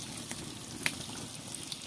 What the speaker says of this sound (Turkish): Bu şekilde şimdi kızartacağız.